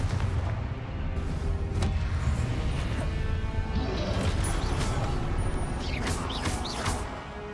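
Confringo fire-spell blasts in the Hogwarts Legacy video game, thick rumbling explosions and crackling impacts over a continuous dense battle din, loud and close throughout.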